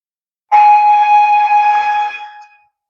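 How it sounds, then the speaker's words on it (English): Sound-decoder horn on a Roco V288 H0 scale model diesel locomotive, one sustained two-tone blast of about two seconds, loud and clear from silence, tapering off at the end. "Function 3 is a longer horn."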